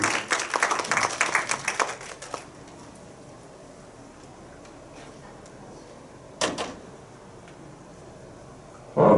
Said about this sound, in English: If you guys would like to give him a round of applause.